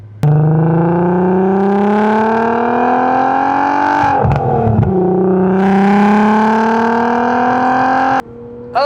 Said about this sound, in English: it has that Revy V6 that sounds